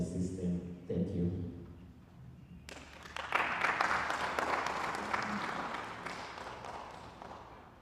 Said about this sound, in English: A round of applause for Alusova again.